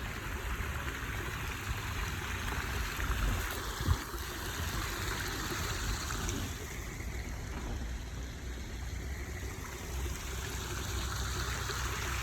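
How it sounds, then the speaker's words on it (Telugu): Water flowing steadily in a mountain stream at Kapila Theertham near Tirupathi, feeding a waterfall below; a constant broadband rush and trickle, fairly close, with no voices. "ఈ నీళ్ళే మనం కపిల తీర్థంలోని వాటర్ ఫాల్గా చూస్తాము."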